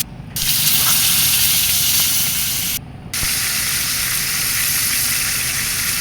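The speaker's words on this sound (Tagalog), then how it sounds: "ipiniprito ko na siya." Food fries in hot oil with a loud, steady broadband sizzle close by, broken by one brief quieter dip before the hiss resumes at full strength.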